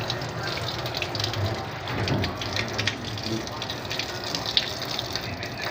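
Water gushing steadily over a dirty 5-ton air conditioner filter during rinsing, a continuous close hiss and splatter that swells and eases slightly, with a voice speaking over it.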